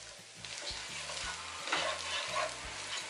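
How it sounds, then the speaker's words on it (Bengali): Carrots and long beans frying in a pan for Bangladeshi-style fried rice, stirred with a spatula: a constant close sizzle with repeated scraping and knocking strokes against the pan. "এটা আমি কিছুক্ষণ নাড়বো।"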